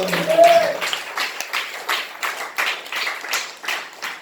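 A church congregation claps hands in a steady, rhythmic beat, many hands together, with a brief voice at the start before the clapping carries on alone.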